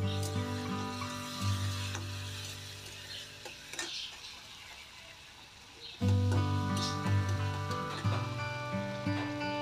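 Raisins tossed into a frying prawn malai curry spice base, giving a steady close sizzle under ringing tonal music, which briefly thins before swelling back; a few light clicks from the pan.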